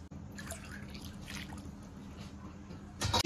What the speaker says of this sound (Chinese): 先加汤